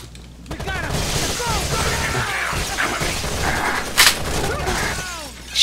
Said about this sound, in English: I gotta try this P90.